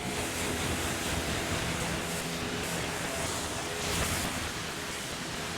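A Tesla Model Y is rinsed with water: a loud, continuous broadband spray hiss runs throughout, close to the microphone, with no talk.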